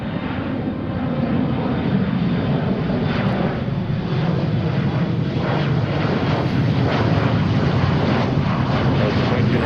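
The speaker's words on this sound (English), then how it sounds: "Delta flight on the roll to Anchorage" Delta passenger jet rolling for takeoff on runway 34 right at Seattle, bound for Anchorage: a loud, continuous engine roar and rumble filling the whole stretch, with wind buffeting the microphone.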